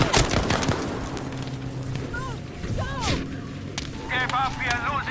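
Video game gunfire cracks in several sharp shots and short bursts, mixed with whip-like snaps and ringing electronic game tones over a busy background.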